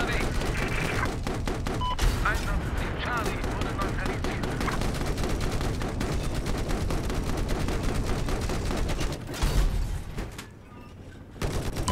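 Dense, sustained gunfire from a Battlefield 4 multiplayer match, with rapid bursts and explosive booms packed together at close range, and someone talking over the shooting throughout.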